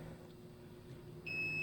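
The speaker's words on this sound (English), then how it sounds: "Alarm goes off." A heat press timer alarm starts beeping near the end, a sharp high electronic tone cutting in over a low steady hum, fairly faint and close.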